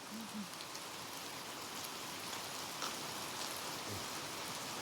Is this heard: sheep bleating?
no